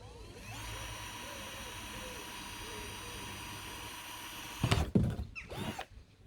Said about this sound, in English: I'm going to use a small drill piece for the pilot hole so I don't crack the bottom of the